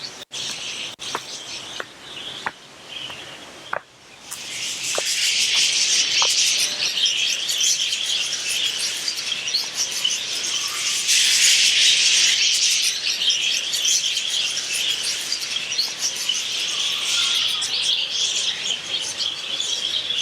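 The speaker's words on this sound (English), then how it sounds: "There's a huge aviary up there." Many birds chirp and call continuously in a large aviary at tropical palace gardens in Madeira, a dense layer of high twittering that starts after a few sharp clicks and stays fairly loud throughout.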